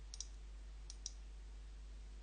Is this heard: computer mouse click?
yes